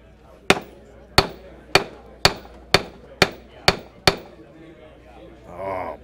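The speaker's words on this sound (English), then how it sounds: "And I get my hammer and hit it 8 times." A hammer strikes something eight times at a gun show, each blow a sharp, loud crack evenly spaced about half a second apart, followed by a brief murmur of a voice.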